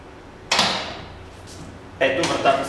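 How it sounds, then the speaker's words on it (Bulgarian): The iPS F52E smart armored door locks with two short mechanical bursts, one near the start and a longer rattling one later, heard up close with faint room noise between. "Ето, вратата се заключи."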